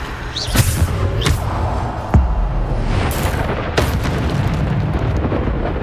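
In Hogwarts Legacy, Bombarda explosion spells burst repeatedly during combat. Several sharp booming impacts stand out over a dense, continuous rumble of battle noise.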